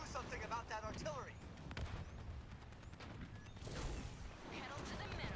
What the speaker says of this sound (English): Can anyone do something about that artillery?